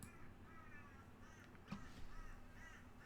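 A crow caws a few times in a video game's eerie radio-signal horror setting, the calls fairly clear over a quiet, steady background hum.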